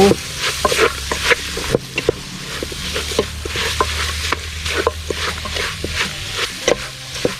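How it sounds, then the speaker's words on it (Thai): A pork leg is stir-roasted in a pot for Thai kaeng khae curry, with a continuous sizzle and repeated scraping, clacking stirs of the utensil against the pot in an irregular rhythm, close and alone. "เอาขาหมูลงไปคั่วครับ"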